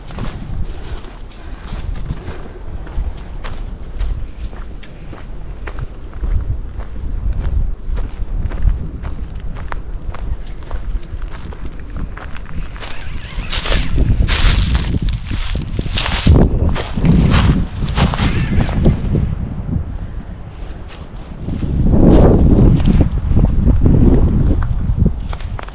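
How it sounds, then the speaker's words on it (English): Breeze rustling through the woods along the Palmetto Trail at Lynch's Woods, a steady soft wash of wind with footsteps crunching on the path, swelling stronger in gusts midway and again near the end, no voices. "I don't know if it's always breezy right there, but it felt good."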